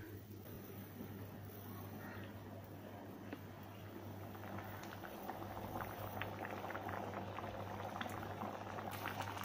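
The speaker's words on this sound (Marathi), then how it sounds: "हिला चांगला मस्तपैकी 10 मिनटं उकळून घेणार आहोत" Dal simmering in a pot over a medium flame, giving a quiet, continuous bubbling and soft popping that grows slightly busier over time, heard alone.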